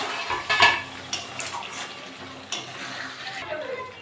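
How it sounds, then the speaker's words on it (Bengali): A lid comes off a pot of chicken curry, a sharp metallic clank near the start followed by softer scrapes and clinks of a spoon against the pot over low background noise. "ঢাকাটা খুলে নেবো"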